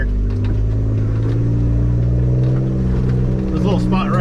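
An off-road vehicle crawls uphill over loose shell in first gear 4-low on Choccolocco Mountain, its engine a steady low rumble heard up close, with someone talking over it.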